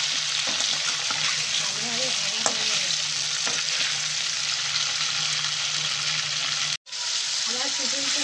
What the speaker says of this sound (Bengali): আবার চিকেনটা নাড়ানো 2-3 মিনিট ছেড়ে দেবো।